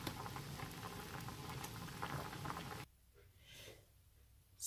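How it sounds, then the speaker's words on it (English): Ingredients for a homemade health drink simmer in a pot, giving a faint, steady bubbling and patter that quiets partway through with a few soft pops. "I will leave it again to boil another 10 minutes."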